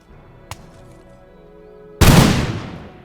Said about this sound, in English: Right now the Scots are actually kind of... oh, they're firing by rank.